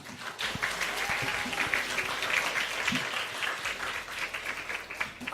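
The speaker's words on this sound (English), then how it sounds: "Let's give them a round of applause." An audience at a hackathon demo day applauds the sponsors: sustained, even clapping from many hands, slightly distant and hall-like, with no talk over it.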